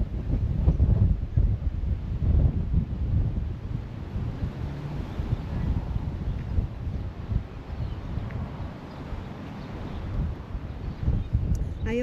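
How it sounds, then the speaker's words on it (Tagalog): Strong wind buffets the microphone continuously with low rumbling gusts at a blossoming cherry tree walk, loudest in bursts near the start and end. "Ang lakas kasi ng hangin dito guys."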